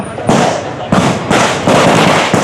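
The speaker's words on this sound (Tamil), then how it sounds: "போடுற வெடி போடுறாங்க" Firecrackers bursting at a crowded 2025 New Year celebration in Jaffna, with several loud, broadband cracks and booms coming in quick irregular succession, close by and dominating the scene.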